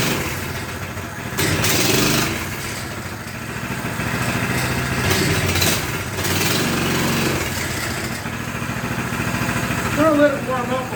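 Axis M200 mini bike engine idling steadily while it warms up, a close, continuous putter with a slight rise near the end.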